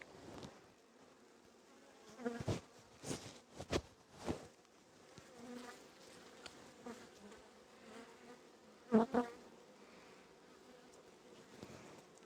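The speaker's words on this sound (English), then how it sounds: "Some of the other bees out." Bees buzz around the hive, their drone rising and falling as insects fly close past, with sharp louder passes against a quiet background.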